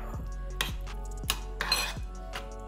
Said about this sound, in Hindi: 3-4 स्लाइसेस पपीता कट कर रखा है मैंने. छोटा कट करेंगे हम इसको.